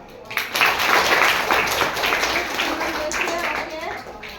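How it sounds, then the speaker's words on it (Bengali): A sixth-grade classroom of students clapping together in encouragement, a dense burst of hand claps rising quickly and sustained for several seconds, with voices mixed in. "আমরা হাততালি দিয়ে উৎসাহ জানালাম"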